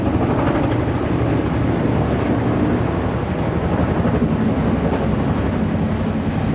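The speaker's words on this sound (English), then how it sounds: "4 helicopters, led by the Chinook, a Griffin, a Puma, and an Augusta 109 SP." A ceremonial flypast of four military helicopters, a Chinook, a Griffin, a Puma and an Agusta 109 SP, passing overhead: a steady, loud rotor and engine roar that stays constant throughout, with no speech.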